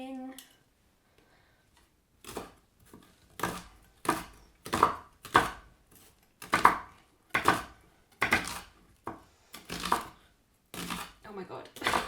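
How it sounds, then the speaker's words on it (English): A knife chops food on a board in a home kitchen, a run of about a dozen sharp, separate strokes at an uneven, unhurried pace, close and fairly quiet after a short pause at the start. "That's finally chopped enough."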